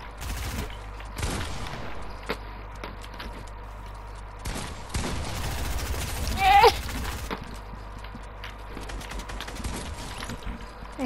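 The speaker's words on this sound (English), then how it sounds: "You're both gonna snipe at the same time?" In a video game, sniper rifle shots crack out sharply as separate loud reports amid game sounds, with players talking through the clip.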